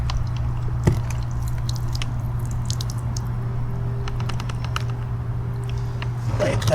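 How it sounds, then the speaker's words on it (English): Water drains and drips out of a fire-resistant safe case after it has been pulled from a pool, giving a series of soft squishing drips and trickles over a low steady hum. "Drain the water out of it."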